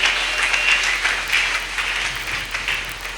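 A church congregation applauding during a Sunday service, with dense sustained clapping from many hands that fills the room evenly and stays loud throughout.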